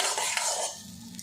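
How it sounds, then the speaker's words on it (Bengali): Half a spoon of butter sizzles in a lightly heated pan for a home breakfast snack, a steady close hiss that fades partway through, with a faint utensil scrape near the end. "কড়াটা হালকাভাবে গরম করে নিয়েছি, এর মধ্যে 1/2 চামচ পরিমাণে বাটার দিয়ে দেব"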